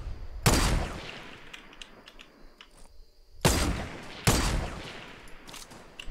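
Sniper rifle shots in an online shooter game: three sharp, loud cracks spaced a few seconds apart, each trailing off in a short echo over quiet ambience.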